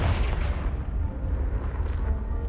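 A Confringo blasting spell in Hogwarts Legacy detonates against a pile of debris blocking an estate stairwell, a deep rumbling boom with crumbling rubble that rolls on and slowly fades.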